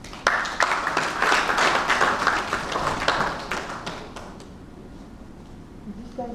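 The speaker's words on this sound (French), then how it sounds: "Sous vos applaudissements." An audience at a bond-issue launch ceremony in Brazzaville bursts into applause, a lively clatter of many hands for about four seconds that then dies away to quiet room tone.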